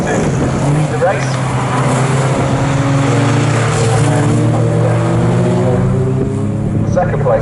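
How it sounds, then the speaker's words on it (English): A Morgan race car passes at Snetterton circuit, its engine drone sustained and fairly loud with shifting tones, under a commentator's continuous talk. "Second place car coming through."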